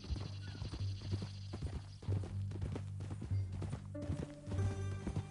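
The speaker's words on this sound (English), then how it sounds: "That a new horse?" Horse hooves clip-clopping in Red Dead Redemption 2, a steady rhythmic series of hoof strikes that stays close and fairly loud, with a low droning game background, a brief whinny-like call and an occasional voice.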